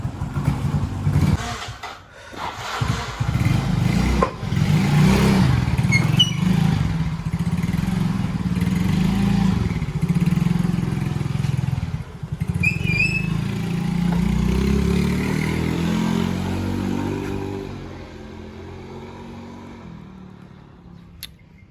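An automatic scooter with heavy, sluggish acceleration and high fuel consumption, its engine revving and running in a sustained rough drone that rises and falls, then eases off and fades near the end, close and fairly loud.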